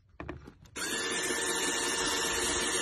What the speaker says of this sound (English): drill a hole in my taillight to get rid of the condensation